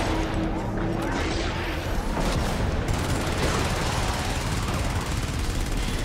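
An automated turret in the video game Helldivers fires in a dense, continuous rattling barrage, loud and close, with explosive crashes mixed in and brief voices under the din.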